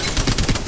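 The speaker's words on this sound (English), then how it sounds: "Next up we have the Spitfire" A brief, loud burst of rapid machine gun fire from the Spitfire in the shooter Apex Legends, a dense rattle of closely spaced shots.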